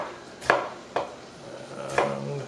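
Knife strikes through avocados against a cutting board for guacamole: three distinct close, sharp chops spaced unevenly, with quiet kitchen room tone between them and no talking.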